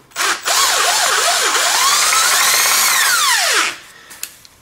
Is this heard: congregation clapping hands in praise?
no